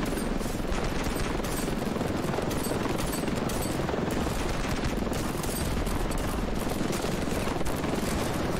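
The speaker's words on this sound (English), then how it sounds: "we did one pass with the rockets" Aircraft-launched rockets in Ravenfield battle gameplay, a dense, continuous roar of rapid-fire bursts and blasts that holds loud and steady throughout, with no talk over it.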